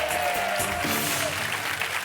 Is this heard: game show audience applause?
yes